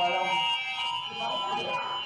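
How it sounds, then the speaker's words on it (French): A steady electronic alarm tone rings continuously, with a bright sustained pitch and faint voices murmuring underneath. "Le grand jeu consiste à tirer la sonnette d'alarme."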